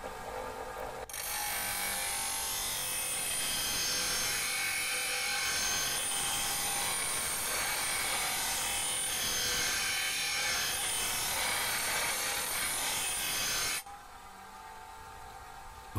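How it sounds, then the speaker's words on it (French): A lawn mower blade being sharpened with a hand file or rasp, giving a steady, continuous grating scrape that runs for about thirteen seconds at close range, then stops abruptly with no talk. "Aiguisez la lame en fonction de sa forme."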